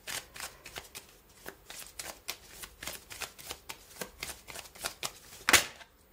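Tarot cards are shuffled by hand in a steady rhythm of crisp riffling flicks, close and fairly loud, ending with a sharper slap near the end.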